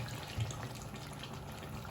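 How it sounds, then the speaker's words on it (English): Water poured into a pan of half-cooked mutton curry, a soft, continuous trickle and splash at close range, with one brief louder splash near the start and no talking. "Add little water."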